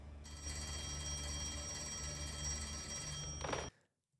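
A telephone in a Peaky Blinders scene rings with a bright, continuous bell tone for about three and a half seconds, then cuts off into silence, with no voices.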